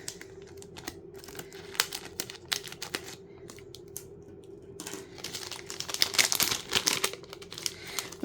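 Crinkly plastic packaging from a Temu cross-stitch kit parcel being unwrapped by hand, a steady stream of close rustling and tearing that grows busier toward the end, with no talking.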